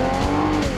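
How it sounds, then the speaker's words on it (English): A 2020 Volkswagen Jetta's engine revs steadily and loudly close by, with a constant droning tone and slight surges, alone with no talk. "Rev up your engine."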